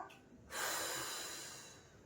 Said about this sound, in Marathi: जस्ट फक्त श्वास घेतला